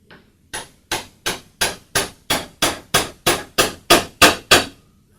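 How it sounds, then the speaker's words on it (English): Thirteen evenly spaced hammer taps on a drill press spindle, driving the quill bearings home while the part is held in a vise, each strike sharp and close with a short ring, growing slightly louder toward the end. "I'll close my vise up a little bit and tap a bit more"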